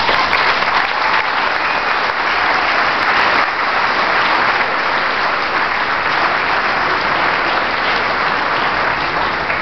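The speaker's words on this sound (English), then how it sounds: "How about a round of applause?" Sustained, dense applause from a large gala audience, loud and steady throughout with no pauses, a broad wash of clapping filling the room.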